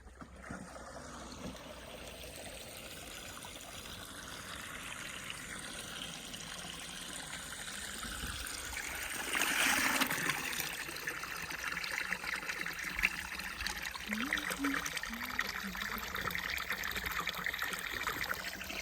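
Soft, continuous trickle of spring water running from the ground, faint and steady with gentle splashing, outdoors with no talking.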